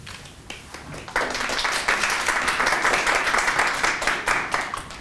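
An audience bursts into steady applause at a university talk, the dense clapping starting abruptly and continuing evenly with a few louder individual claps standing out.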